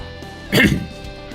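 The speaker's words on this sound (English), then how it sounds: "I keep coughing" A single short cough, loud and close, bursting out of near-silence for a moment, with a faint buzzing background around it.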